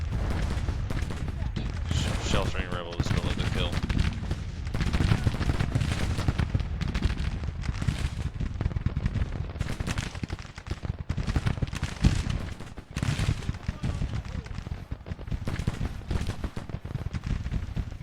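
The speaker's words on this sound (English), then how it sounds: "Those cannons are firing in force now" Cannon and artillery fire in the video game Grand Tactician, a dense, continuous barrage of booms and rattling volleys across the whole stretch, with someone talking over it.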